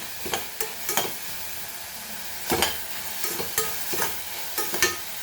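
Garlic and onion fry in a pan while a utensil stirs them, with a steady faint sizzle broken by several sharp scraping strokes at irregular intervals.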